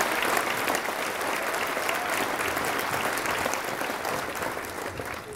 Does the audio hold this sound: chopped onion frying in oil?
no